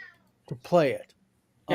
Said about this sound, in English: Oh, it's my cat being whiny.